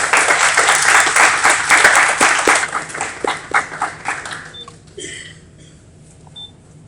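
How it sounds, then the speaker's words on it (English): Loud audience applause at a technical signing day ceremony welcoming a student, dense clapping that thins out and fades toward the end, with a few stray claps trailing off. "Let's give her a round of applause."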